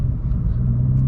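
A Honda Civic engine nearly stalling, a loud low uneven rumble heard close from inside the car, holding steady over a brief moment with no speech.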